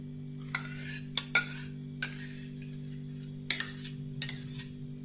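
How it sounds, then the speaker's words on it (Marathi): A spoon stirs a homemade curd mixture in a bowl, making a few separate light clinks and scrapes against the container over a steady low hum, with no talking. "हे दही याच्यामध्ये आता केलंय मिक्स"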